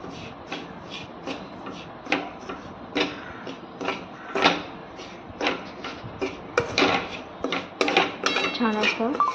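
A mixture is stirred and sautéed in a pan, with irregular metallic clinks and scrapes of a spoon against the pan, loud and close.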